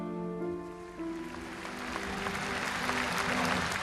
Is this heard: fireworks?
no